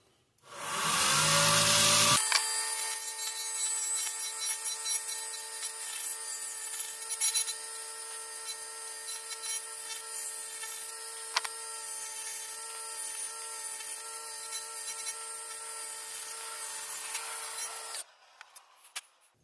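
A purpleheart pen blank with opal inlay being turned down to the bushings on a lathe: a steady, loud, sustained whirring and scraping drone that runs for about fifteen seconds before stopping abruptly.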